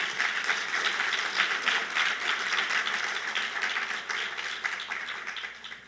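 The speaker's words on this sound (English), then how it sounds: "let's give the mayor and yourselves another round of applause." An audience at a city's State of the City address applauds steadily for the mayor, a dense, even wash of many hands clapping that holds at a constant level for the whole stretch, with no voices over it.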